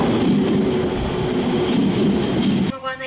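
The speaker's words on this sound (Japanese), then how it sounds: "東北新幹線 一ノ関に着きましたが" A Tohoku Shinkansen train pulling into Ichinoseki station, heard from inside as a loud, steady rumble with wheel noise, ending abruptly in a brief softer tone near the end.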